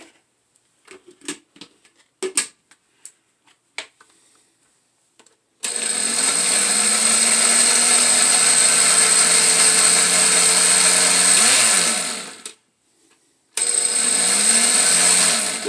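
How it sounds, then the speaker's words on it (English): A jerk chicken marinade with minced garlic is whirred in a blender or NutriBullet: a loud, steady motor roar runs for several seconds, cuts out briefly, then starts again, after a few light knocks and clicks. "you're going to let the blender or the NutriBullet or whatever you have do the work"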